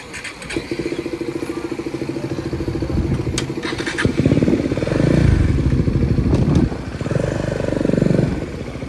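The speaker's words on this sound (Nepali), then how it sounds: "अब रमेश भाइले बाइक चलाउनु लागेको छ" A Yamaha MT-3 motorcycle is ridden at night around Komenoyama. Its engine drones loud and close with a steady pulsing rhythm that swells as the rider accelerates, then settles before rising again.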